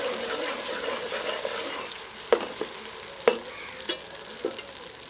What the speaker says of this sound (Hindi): का पेस्ट शामिल कर लेते हैं। थोड़ा सा भून लेंगे।